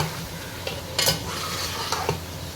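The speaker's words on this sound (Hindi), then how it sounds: "चलो अब हम इसको अच्छी तरह भूनेंगे जब तक टमाटर ना गल जाएं।" Tomatoes and chili frying in biryani masala for chicken biryani, stirred in a pan: scraping spoon strokes and a couple of sharper clinks over a steady, close sizzle, with no talking.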